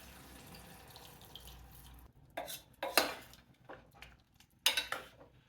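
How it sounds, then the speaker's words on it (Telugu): Half a litre of water poured into a pot of drumstick and rice flour curry, with sharp metallic clanks of utensils and splashy pouring bursts, close by and without talk. "ఇప్పుడు ఇందులో ఒక 1/2 లీటరు నీళ్లు పోస్తున్నాను."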